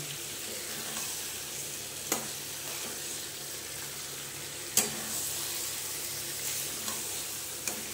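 Chicken pieces searing in spiced masala in a pan for a dhaba-style chicken do pyaza, a constant close sizzle and crackle with occasional sharp clinks of a utensil against the pan, no talking.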